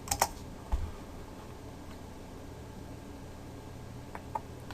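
A few soft keystrokes on a computer keyboard while typing a search, sparse faint taps over a quiet background.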